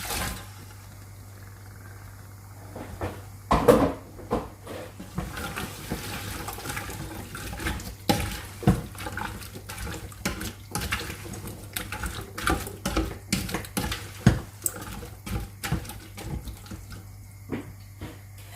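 Starch water pours and splashes into a pot of pumpkin curry in uneven gurgling bursts, with clinks and sloshing, close by, over a faint steady hum.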